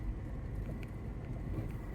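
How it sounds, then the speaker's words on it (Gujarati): Cold wind blowing at the seashore beside the Ratneshwar Mahadev temple, a steady low buffeting rush across the microphone with faint higher flutters, close and continuous. "ઠંડો પવન ચાલુ થઈ ગયો"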